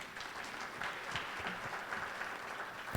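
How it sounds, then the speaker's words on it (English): A crowd at an evening gathering on the 2016 presidential election applauds a speaker from the Blackout Collective, steady distant clapping from many people at a low, even level throughout. "Give her a round of applause."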